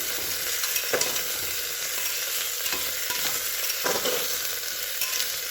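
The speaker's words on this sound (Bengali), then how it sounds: "আলু আর সোয়াবিন একটু ভেজে নিচ্ছি আমি।" Potatoes and soybean chunks frying in a pan, giving a steady close sizzle with occasional stirring scrapes and clicks throughout, no voices.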